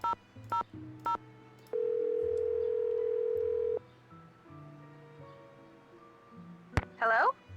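A telephone in the Nancy Drew game Danger on Deception Island gives three short dialing beeps, then a steady dial tone for about two seconds, followed by quieter ringing tones and a short burst, with no talk over it.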